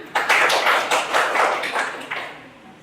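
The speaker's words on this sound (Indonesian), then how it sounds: "Tepuk tangan" Classmates clapping after a group presentation in a vocational school classroom, a short loose burst of hand claps that swells quickly and then trails off.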